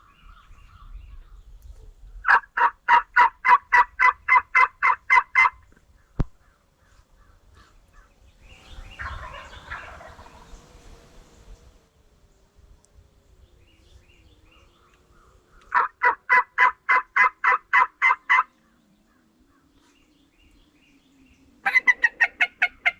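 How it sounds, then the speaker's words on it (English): Wild turkey gobblers gobble from the roost in loud repeated rattling bursts, several separate gobbles spaced apart with quiet outdoor stretches and faint rustling between them. "Well, a lot of gobblers over there roosted still."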